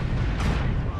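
Half a dozen AC2 autocannons on a mech in a video game firing rapidly, a dense, loud, continuous rumble of overlapping booms filling the moment with no gaps.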